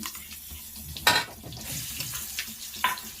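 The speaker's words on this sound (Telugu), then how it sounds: "వేసుకొని మనము అంతా ఇలా ఫ్రై చేసుకోవాలి" Green chili paste with turmeric fries in a pan, a soft steady sizzle broken by a few brief louder bursts of spatter and stirring, heard alone.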